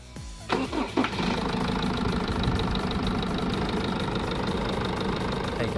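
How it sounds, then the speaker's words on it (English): A Jeep Wrangler CRD diesel engine cranks over a few times, catches and settles into a steady, rough idle, loud and close with no talking. "you just want to fire up the engine and make sure that you still have a running engine."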